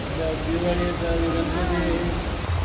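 Steady rain hiss fills the clip outside a DMart store, a constant wash of falling water with faint voices underneath.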